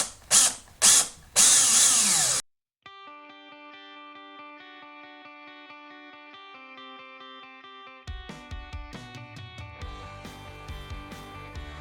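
A drill bores a hole in a boat hull for a flush mount rod holder, loud short bursts of drilling at first, then a stretch of sustained tonal ringing, and finally rattly mechanical scraping and clatter.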